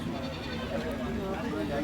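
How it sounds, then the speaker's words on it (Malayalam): Goats bleat at a busy wholesale goat market in Kerala, their calls blending with crowd noise and people talking nearby. "ആടുകൾ ഇങ്ങനെ വന്നുകൊണ്ടിരിക്കുന്നുണ്ട്"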